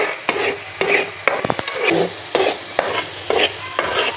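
Spoon stirring egg halwa (aande ka tukri halwa) in ghee over a medium flame, with repeated scraping strokes against the pan at a steady rhythm over a soft background sizzle, close and fairly loud.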